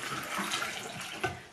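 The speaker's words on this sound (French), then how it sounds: "je viens rajouter après ça 4 tasses d'eau" Cold tap water runs steadily into a cooking pot on top of raw apples, a continuous close splashing rush with a brief louder gurgle near the end.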